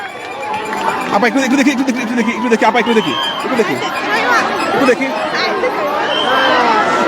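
Crowd of hundreds of people gathered around a helicopter, a loud continuous hubbub of overlapping voices and shouts with people moving about, close and dense throughout.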